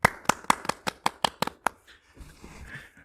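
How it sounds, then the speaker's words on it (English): Sparse clapping at a podcast season finale, about nine sharp, close claps in a quick uneven rhythm, then a soft murmur with faint talk. "Let's give them a round of applause."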